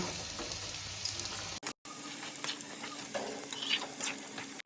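A spatula stirs spinach with prawns in a frying pan, giving soft scraping and gentle sizzling that run steadily for several seconds with one brief break and no talk.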